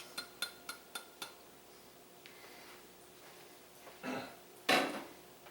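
Cooking fettuccine with chicken: a pan clinks and scrapes on a stovetop, first five evenly spaced metallic ticks, then a sizzling whoosh and a louder rattling toss near the end, close up, no talking.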